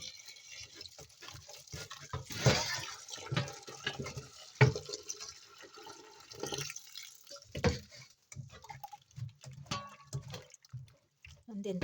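Homemade organic potato slices being rinsed in a sink, with irregular splashing, dripping and sloshing water close by, broken up by handling clatter and occasional speech.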